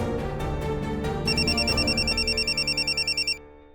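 A telephone rings in a Hindi TV drama scene, a rapid pulsing electronic trill repeating loudly for about two seconds before it cuts off, with no speech.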